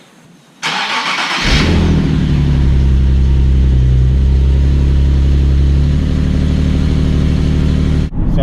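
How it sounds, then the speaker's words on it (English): A car engine cranks and catches, then settles into a loud, steady, close-up running drone for several seconds before cutting off abruptly. The windows are down. "I just want to take a little drive with the windows down"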